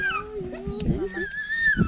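Greenland sled dog puppy whimpering and whining close by, thin high wavering cries rising and falling across a couple of seconds with soft rustling underneath.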